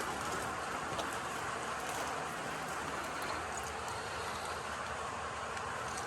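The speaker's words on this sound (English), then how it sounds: "it's actually pissing hard rain." Heavy rain pours down outside near a garage where a Range Rover L322 sits, a dense, steady hiss of drops at low to moderate level with no gaps and no talking.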